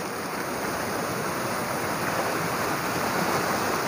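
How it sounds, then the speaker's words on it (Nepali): The Kali river stream rushes steadily with a dense, even roar of flowing water, close and continuous throughout, with no voices. "हामी चाहिँ अहिले काली खोलामा घुम्दैछौँ"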